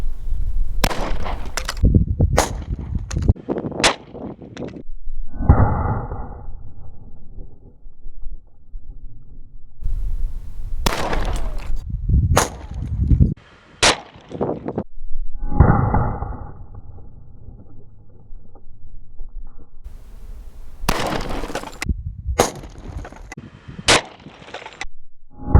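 Gunshots from a .450 Short Magnum handgun firing 230-grain Double Tap loads at Spam cans: sharp, loud cracks come in three clusters of several shots, separated by brief rumbling, clattering gaps.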